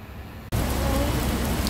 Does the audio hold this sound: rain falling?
yes